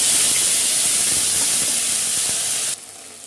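Bay leaf, cumin and ginger-chili paste hitting hot oil in a wok, a loud bright continuous sizzling hiss that holds steady, then drops suddenly to a quieter fizz near the end.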